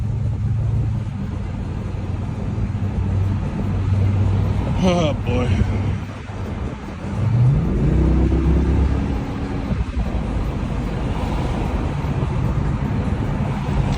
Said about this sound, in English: More freaking traffic.